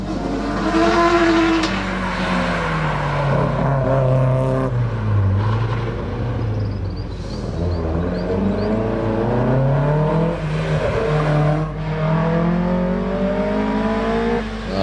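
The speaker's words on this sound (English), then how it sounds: "His little Datsun 1600." A small Datsun 1600 race car climbs a hillclimb course, its engine droning and revving up and down through the gears, loud and continuous as it works through the run with no talk.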